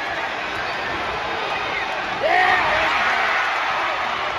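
A crowd at a WrestleMania match between Drew McIntyre and Gunther cheers steadily, with a louder surge partway through and a sharp whoop. Voices rise within the din.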